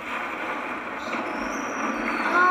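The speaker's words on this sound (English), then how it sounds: "We're scraping. I hear it. It's scraping." The hull of the Titanic scrapes along an iceberg in a Roblox game, heard from the boiler room. It makes a harsh, continuous grinding rumble that grows slightly louder toward the end, with no voices.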